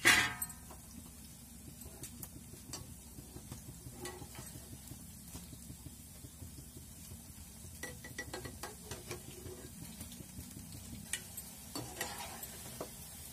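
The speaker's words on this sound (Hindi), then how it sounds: "सरसों तेल में ही छानेंगे, उसका स्वाद अच्छा लगता है" Pakoras deep-fry in hot mustard oil in a kadhai with a soft, continuous sizzle and scattered crackles and pops, quiet and steady throughout.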